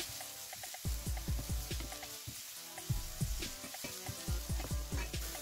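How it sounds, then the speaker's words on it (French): Onions sizzle and crackle in a hot frying pan with a drizzle of oil, with rhythmic stirring scrapes and pops throughout. "Dans une poêle que j'ai mis à chauffer avec un filet d'huile, je vais faire revenir les oignons."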